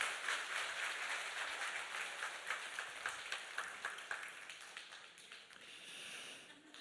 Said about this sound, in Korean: 인사할 때 크게 박수해 주시기 바랍니다